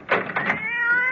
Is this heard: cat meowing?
yes